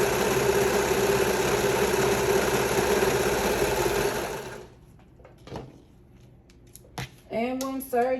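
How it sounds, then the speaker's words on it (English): An overlock serger runs steadily, stitching fabric pieces for fringed shorts, a close continuous mechanical whir that stops after about four seconds, followed by quiet handling noises and a brief voice. "I'm just going to sew all the way to the edge. So I'm going to serge"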